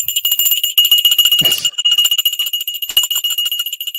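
A bright metallic bell rings continuously with a sustained high tone and rapid rattling, loud and close, with a brief thud in the middle.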